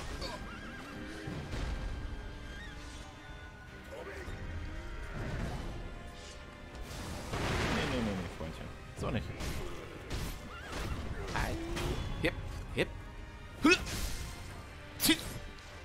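A horse whinnies repeatedly amid galloping hoofbeats, crashes and swooshes in the video game Sekiro: Shadows Die Twice, loud and busy throughout with a voice now and then.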